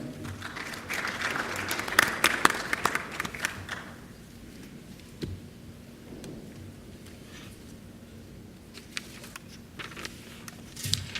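An audience applauds after startup business plan pitches at a Saudi startup competition, a spread of clapping that swells for a few seconds, then thins to scattered claps with faint room noise between.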